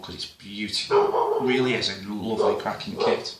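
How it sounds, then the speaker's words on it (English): A dog barks and whimpers indoors in a few short yelps and whines, mixed in and overlapping with someone talking at close range. "Excuse the dog."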